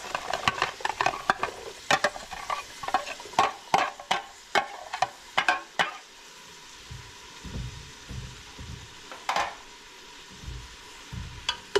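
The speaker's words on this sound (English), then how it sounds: "We're gonna saute them just for a minute" Onions sautéing in butter in a pan for ham, cabbage and potatoes, with a run of sharp spoon scrapes and clacks over a soft sizzle, then quieter stirring knocks toward the end.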